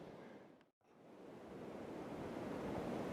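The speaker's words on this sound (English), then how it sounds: "So even though if you hear the rush of wind, we're not getting the full blast." Wind rushes steadily over the top of a hill outdoors, a broad noisy roar that dips briefly to near silence and then swells back, soft and distant rather than a full blast.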